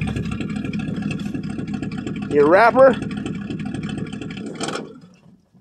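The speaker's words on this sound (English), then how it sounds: "Engine ain't all warmed up either, so they didn't get it warmed up" A 1965 Ford Fairlane 500 with a 289 V8 idles steadily after a cold start, a low continuous engine rumble under nearby speech, then fading toward the end.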